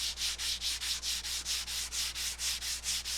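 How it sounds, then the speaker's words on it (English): Rhythmic hand sanding on a wooden pizza peel, about four even rasping strokes per second, close and steady with no voices. "smooth it back down with a light sanding"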